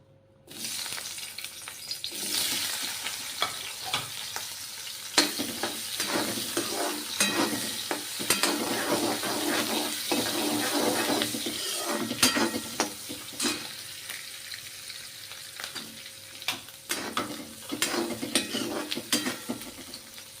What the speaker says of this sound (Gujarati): તો આપણું તેલ ગરમ થઈ ગયું છે સૌપ્રથમ એમાં આપણે કેપ્સિકમ એડ કરશું